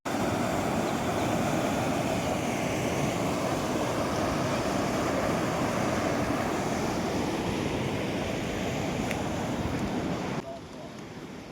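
Water flowing steadily at the Ramatirtha temple water storage in Odisha, a dense, continuous rushing wash that stays loud throughout and then drops slightly near the end.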